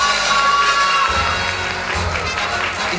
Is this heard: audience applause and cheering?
yes